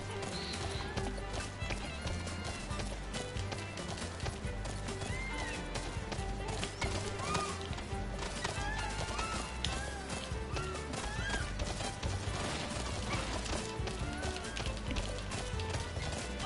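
A chocobo runs in Final Fantasy XV, with rapid clip-clop footfalls and bird calls over game music and effects that continue without a break.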